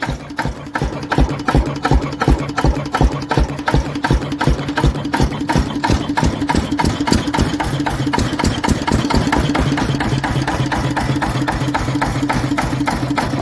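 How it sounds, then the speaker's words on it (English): A Lister CS 6 horsepower single-cylinder diesel engine chugs steadily at low speed, its regular thumping beats loud and close, running evenly without interruption. "Lister CS 6 horsepower diesel. running sweet as a bell."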